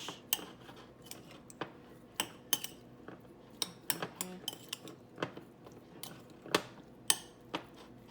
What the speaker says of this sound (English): I'm gonna mix them together